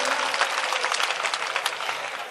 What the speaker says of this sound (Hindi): एक बार जोरदार तालियां बजाकर मुझे हुक्म दें